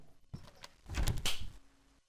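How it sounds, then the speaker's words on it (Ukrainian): A door opens in the Baldi's Basics Classic Remastered video game: a soft thunk, then a louder sliding, scraping swell lasting about half a second, followed by quiet. "Давай відкривай двері."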